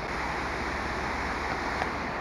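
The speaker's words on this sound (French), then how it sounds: "C'est la cascade de Langevin." The Langevin waterfall on Réunion Island cascades in a steady, broad rushing roar of falling water, loud and continuous without pause, with no voices.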